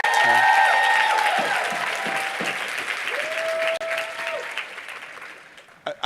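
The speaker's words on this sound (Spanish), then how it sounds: "Un fuerte aplauso a Brandon." Sustained audience applause from a crowd at a motivational speaking event, dense clapping that fades gradually over several seconds and then cuts off with a few louder final bursts.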